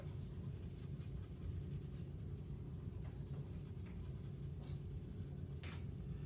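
Graphite pencil shading on paper, held at the very back of the pencil to colour in a layer of a 3D shape drawing: a soft, steady scratchy rustle of repeated strokes with faint low rumble underneath and no talk.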